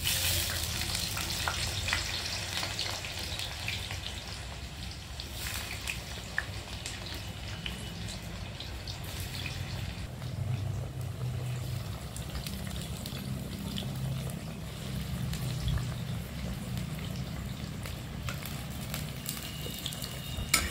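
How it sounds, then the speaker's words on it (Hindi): Chopped suran, elephant foot yam, fries in hot mustard oil for a village-style vegetable dish, giving a continuous soft sizzle and bubbling with occasional stirring scrapes, moderately close and steady. "अब हम इसमें ये कटे हुए सूरन को डालकर पहले फ्राई करेंगे"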